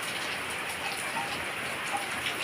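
Light village rain patters steadily on surfaces in a soft, even hiss of many drops, close and continuous with no voices.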